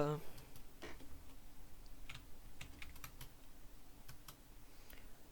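Quiet, irregular keyboard typing with scattered sharp mouse clicks, close by, against a low steady background hum.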